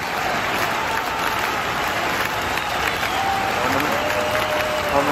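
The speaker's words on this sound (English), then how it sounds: "Listen to this crowd in Seattle." Loud, steady roar of a wrestling crowd in Seattle cheering throughout, dense and continuous with no breaks, the noise of a big arena audience reacting to a Roman Reigns versus Kenny Omega match.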